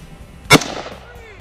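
A single sharp rifle shot fired with iron sights at a target 100 yards away outdoors, loud and brief with a short ringing tail.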